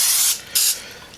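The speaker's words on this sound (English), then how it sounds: "So we're gonna spray this down with the cooking spray," Cooking spray hissing onto a glass baking dish in a home kitchen, two short close bursts with a brief pause between them, loud and alone.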